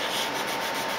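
Steady, close rubbing of sandpaper over dried putty on a plastic Seaview submarine model kit, a continuous dry scratchy hiss with no talking.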